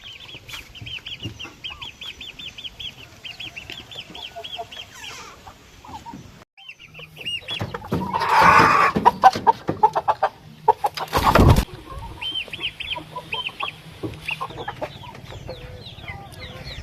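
A home-raised rooster clucks repeatedly nearby in short rhythmic bursts, with a louder flurry of squawking and flapping partway through.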